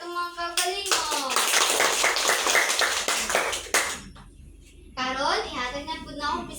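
Children clap together in a classroom, a dense burst of quick hand claps lasting a few seconds, with young voices chattering before and after the clapping.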